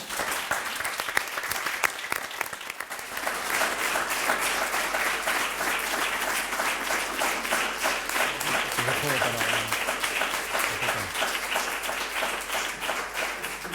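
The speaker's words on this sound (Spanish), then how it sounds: "Por tanto, yo os pediría un aplauso para ellos." Sustained audience applause at an event, dense steady clapping from a large crowd filling the whole stretch, loud and continuous with no talk over it.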